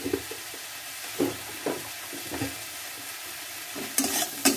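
Stirring and frying in a pan while making chowmein, with a low continuous sizzle and a few soft scraping strokes, then a brighter burst of frying near the end, quiet and close.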